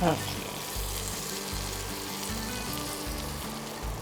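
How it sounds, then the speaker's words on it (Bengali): Ground panch phoron spice sizzles in ghee with a steady, close crackle after a brief clatter at the start, with no talk over it. "ঘিয়ের সঙ্গে পাঁচ ফোড়নের গুঁড়ো করে যেটা তুমি দিচ্ছ"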